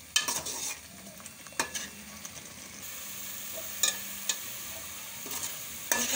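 Onions and tomatoes fry in oil for a chicken tikka karahi gravy, a soft steady sizzle punctuated by occasional sharp clinks of a spoon stirring against the pan.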